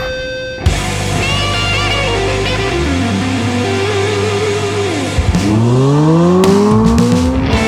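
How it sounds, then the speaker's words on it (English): A Hyundai IONIQ 5 N roars and revs loudly while tires squeal in long rising and falling screeches as it drifts close by. "Drifting."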